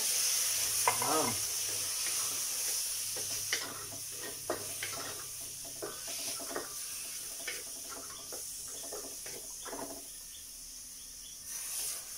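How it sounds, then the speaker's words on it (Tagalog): Broth added to a hot pan of sweet and sour fish sets off a steady, fairly faint sizzle with small bubbling pops and an occasional stir or utensil tap. "ilagyan natin ng konting sabaw"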